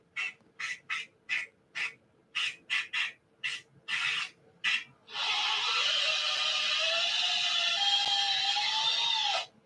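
A hand tool rasps repeatedly as it tapers a stripped bolt hole in an engine, a series of short harsh scraping strokes in a quick irregular rhythm, then a long continuous grinding stretch, close and loud.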